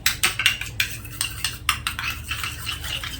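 A spoon stirring chutney and mayonnaise together in a bowl, a close, rhythmic run of light clinks and scrapes about every quarter second, with no talking.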